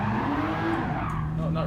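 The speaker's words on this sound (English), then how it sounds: "The endless burnout proceeded. Endless burnout. Give me some tire smoke." Tire squeal from a car doing a sustained burnout in the racing game Gran Turismo 7, a steady screeching tone over engine drone, continuous and loud, with voices talking in the background.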